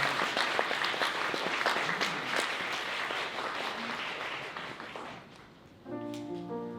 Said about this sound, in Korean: 네, 여러분 박수 부탁드리겠습니다.